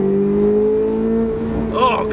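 A Chevrolet C8 Corvette Z06 fitted with an Eventuri intake holds a steady, close engine drone before a short rising rev flares up at the end.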